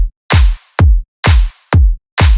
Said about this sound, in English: So for this song, I used a kick from my previous video and also the clap from the same video.